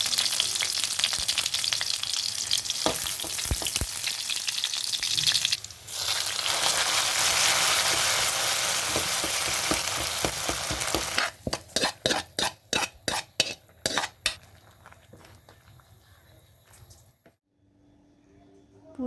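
Garlic and whole dried red chillies frying and sizzling loudly in hot oil, with a utensil scraping and clattering against the pan, ending in a run of sharp stirring knocks before the sizzle fades.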